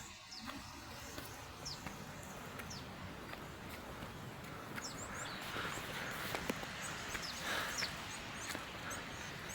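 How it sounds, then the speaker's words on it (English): Birds chirp and call intermittently around an East African village, with several short high calls scattered over a steady outdoor rumble of footsteps and movement. "Just listen to the birds."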